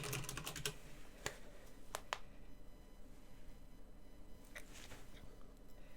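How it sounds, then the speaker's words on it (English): Typing on a computer keyboard, heard up close as quiet, irregular key clicks in short bursts with pauses between them, alone and without talking. "I'm gonna type a few messages"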